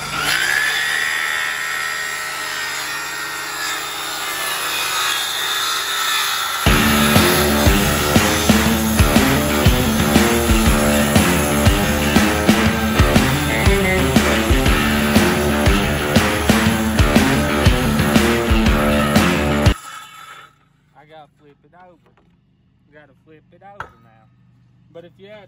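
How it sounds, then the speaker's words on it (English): Hand sawing through a piece of material: about thirteen seconds of steady, rhythmic back-and-forth strokes, close and loud, ending abruptly and followed by quieter scattered knocks. "record me sawing it"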